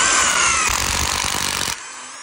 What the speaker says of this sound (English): we're gonna have to pre-drill first. I'm gonna put this pilot hole right there.